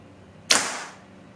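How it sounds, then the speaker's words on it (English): A bareshaft arrow shot from a bow through paper makes a single sharp, close, loud tearing whoosh that fades quickly into quiet. "here goes the first shot with the Bareshaft through paper"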